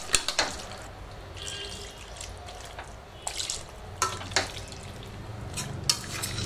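Water is added to a pot of chicken biryani with the chicken still in it, giving intermittent splashes and drips in short bursts, fairly close, with no voices.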